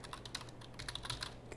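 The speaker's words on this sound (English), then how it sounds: "You can just type some idea" Typing on a computer keyboard during a software demo: quick, light key clicks in an uneven rhythm, close and quiet over a low steady hum.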